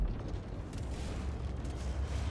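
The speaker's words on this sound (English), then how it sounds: "that looks like a big explosion" Explosion following weapon fire in a naval combat video game, a dense, sustained low rumbling boom filling the whole moment at steady loudness, with no voices on top.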